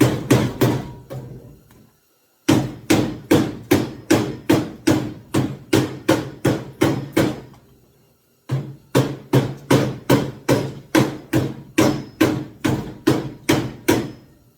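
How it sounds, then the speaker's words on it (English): A hammer knocks repeatedly on a Jeep steering wheel that is stuck on its shaft. Sharp, loud, evenly spaced metallic blows fall in two long runs separated by brief pauses, close up and with no talking. "So don't mind that hammer."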